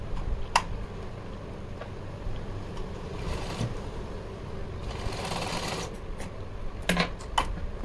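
A sewing machine runs a steady, fairly quiet stitching hum while a choli is sewn for a Janmashtami dress, broken by a few sharp ticks and clicks near the end.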